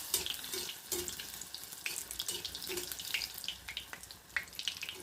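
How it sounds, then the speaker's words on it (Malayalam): Neyyappam deep-frying in hot oil while oil is ladled over the top, giving a steady, fairly quiet bubbling hiss with scattered sharp crackles and splashy pours, with no talking. "നമ്മൾ ഇതിൻ്റെ നാല് ചുറ്റിനും ഇതിൻ്റെ മുകളിലേക്ക് എണ്ണ കോരി ഒന്ന് ഒഴിച്ചു കൊടുക്കണം"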